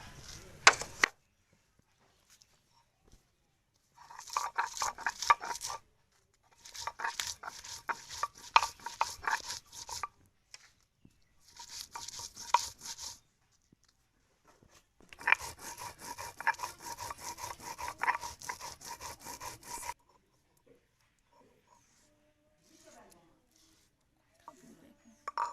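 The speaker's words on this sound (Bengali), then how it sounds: "কাঁচা মরিচ আর শুকনো মরিচ বেটে নেব।" Green and dried chilies ground by hand on a stone into spice paste for a village-style taki fish curry, heard as rhythmic scraping strokes in several bursts separated by quiet pauses, close and fairly loud.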